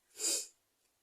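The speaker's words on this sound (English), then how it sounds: "I'm going to sneeze." A single short sneeze, a sharp breathy burst that fades quickly, alone in a quiet room.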